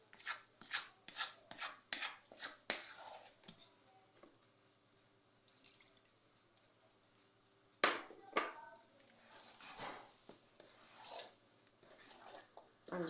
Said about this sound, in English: I'm just doing gentle folds, as you can see, guys, and ensuring that there are no crumbs